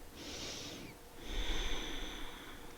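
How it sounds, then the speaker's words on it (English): Ujjayi breathing in a yoga session: deep breaths drawn through a constricted throat, a soft hissing exhale followed by a longer, fuller rasping breath, close and steady with no talking. "You can constrict the back of your throat, making that subtle sound of H."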